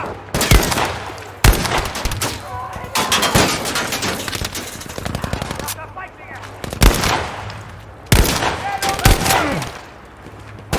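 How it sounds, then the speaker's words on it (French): Gunfire in Battlefield V, with repeated sharp close shots and rapid automatic bursts ringing out at irregular intervals over a continuous battlefield din. "Il me tire dessus!"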